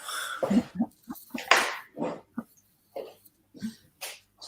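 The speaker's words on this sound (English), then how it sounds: "I'm going to let my dog out." A dog being let out makes short, close bursts of snuffling, whimpering and cough-like snorts, separated by brief silences.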